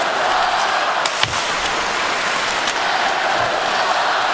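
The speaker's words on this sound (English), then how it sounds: "as the crowd urges the Sharks on here to get the equalizing goal" A hockey arena crowd at an NHL game between the Vancouver Canucks and San Jose Sharks roars steadily, urging the Sharks on, a loud, continuous wall of cheering with a few sharp knocks.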